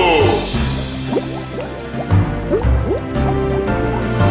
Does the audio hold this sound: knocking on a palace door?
no